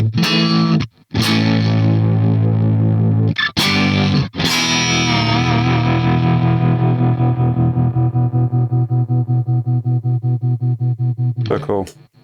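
An electric guitar plays through a Lance Amplification amp's own distortion, loud sustained crunchy chords with brief pauses, then a long ringing chord that slowly decays.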